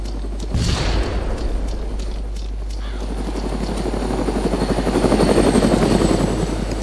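Helicopter in the DayZ video game, a steady rotor drone that swells louder toward the end, with rhythmic chopping and scattered thumps and clatter.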